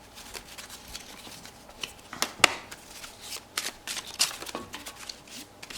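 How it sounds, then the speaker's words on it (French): Tarot cards are shuffled by hand, giving a close series of soft riffling and slapping bursts at irregular intervals, with no talk in between. "On va faire le tirage. Je commence avec mes petites cartes."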